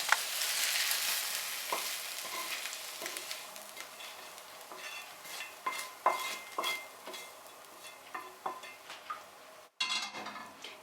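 A spoon scrapes and stirs mashed potatoes together with fried mushrooms in a pot, giving repeated clinking, scraping strokes over a faint sizzle; the strokes are close and irregular, with a brief pause before the last few.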